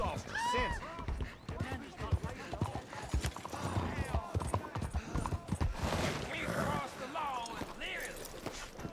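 Horse hooves clip-clop in Red Dead Redemption 2, a fairly quiet, irregular run of hoof falls beneath busy game sounds and someone talking.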